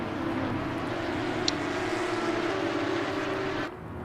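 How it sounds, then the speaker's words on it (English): Porsche Cup race cars idle and rumble together in a racing simulator game at Oulton Park, a continuous loud engine drone filling the clip before it drops slightly at the end, with no voices. "He'll be allowed to start his engines."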